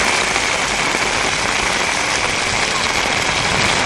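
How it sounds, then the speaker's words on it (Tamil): Heavy summer rain pours steadily over the Nilgiris hill area around Ooty and Coonoor, with hail reported, making a dense, continuous hiss that stays loud and even throughout, with no voices. "நீலகிரி மாவட்டத்தில் உதகை, குன்னூர், கோத்தகிரி உள்ளிட்ட பகுதிகளில் திடீர் என்று மழை பெய்தது."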